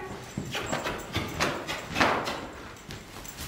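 Hooves of a ridden horse clip-clop in a steady walking rhythm during a riding session, each hoof strike close and distinct over a rough outdoor background.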